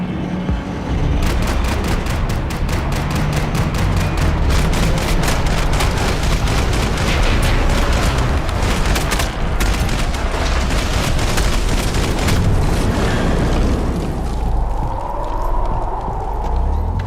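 Sustained gunfire in the video game Max Payne 3, a long dense barrage of rapid shots and booms that runs steady and loud for most of the stretch, then thins out near the end.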